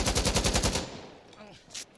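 An Alpha AK (AK-104) in Insurgency Sandstorm fires full-auto: a loud, rapid burst of gunshots lasting under a second, then a few quieter mechanical handling sounds.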